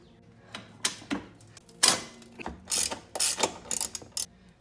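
Ratchet wrench clicking as exhaust bracket bolts are tightened on a Can-Am Outlander 1000 ATV during an HMF exhaust install, several close bursts of rapid metallic ratcheting separated by short pauses, no talking.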